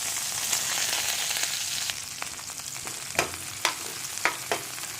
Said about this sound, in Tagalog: gigisahin muna natin yung sibuyas, bawang